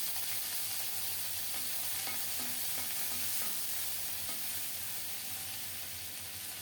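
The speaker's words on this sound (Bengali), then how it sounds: "কড়াইতে অল্প করে একটু সরিষার তেল দিলাম তেল গরম হলে চেপা শুটকিগুলো দিয়ে দিলাম" Chepa dried fish fries in hot mustard oil in a wok, a dense, even sizzle that holds steady throughout with faint scraping stirs underneath and no talking.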